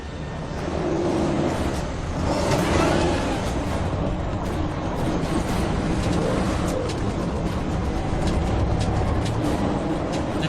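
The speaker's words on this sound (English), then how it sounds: "The truck's fighting for traction right now." A heavy truck engine revving hard as the truck fights for traction, a loud, sustained roar with rising and falling effort over ten seconds, close and continuous.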